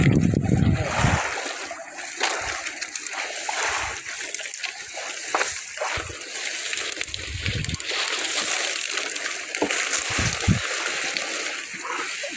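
Sea water splashes and sloshes continuously during traditional spear fishing at a payaw fish-aggregating raft, close and busy, with muffled voices now and then.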